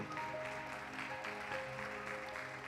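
Applause from an audience at a leaders' graduation ceremony in a church, a steady, even wash of clapping held at a moderate distance, with faint voices underneath.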